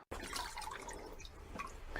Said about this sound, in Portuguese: Mergulhe rapidamente na água para que o musgo esfagno absorva um pouco.